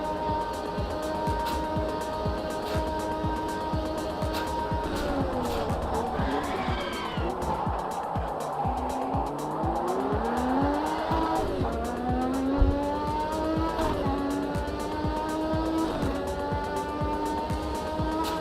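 Race cars in a racing video game, engines whining through shifting revs with tire squeals and skids, close and continuous, with occasional talk over them.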